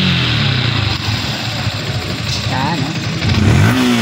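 A Yamaha Sniper 155 motorcycle engine idles with a steady mid-pitched putter and then revs up briefly near the end, heard up close under someone speaking.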